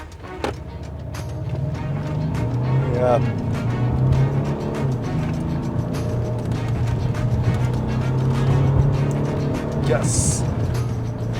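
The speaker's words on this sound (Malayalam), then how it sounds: "ഇനി നമ്മൾ ഒന്ന് ത്രോട്ടിൽ കൊടുക്കാൻ ആഗ്രഹിക്കുകയാണ്." Maserati Ghibli with sport suspension mode on, engine droning steadily as throttle is applied and held, a low continuous rumble heard from inside the cabin under ongoing talk.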